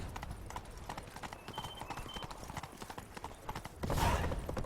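Roach, the Witcher's horse in The Witcher 3 video game, gallops in a quick, steady clip-clop of hooves close by, with a louder burst of movement near the end and faint game ambience underneath.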